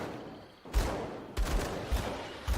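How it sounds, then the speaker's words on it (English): Gunfire in the action role-playing game Grim Dawn, a rapid series of sharp blasts roughly every half second, each with a bright crack and a lingering decay, fairly faint overall and without talk. "It's always good when I just throw a hail of gunfire."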